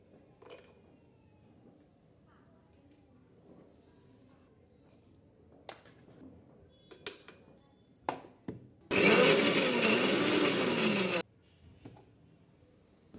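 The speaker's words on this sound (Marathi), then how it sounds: "लसूण मिरची कोथंबीर जिरे दोन चमचे आणि थोडी हळद टाकून हे वाटण वाटून घ्यायचे आहे" Mixer grinder blending garlic, green chili, coriander, cumin and turmeric into a paste, a loud harsh whir running about two seconds after scattered small clicks and knocks.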